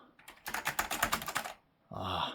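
A burst of rapid, clacky keystrokes on an old 486 PC keyboard, about a dozen hits, followed after a short pause by a brief louder mechanical clatter.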